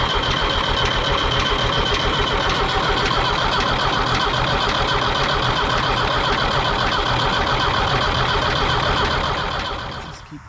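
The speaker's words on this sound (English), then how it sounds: "Let's just keep cranking it." A Ford 5000 tractor's starter cranks the engine in a continuous rapid churning rhythm for about ten seconds, loud and close, before it cuts off at the end without catching.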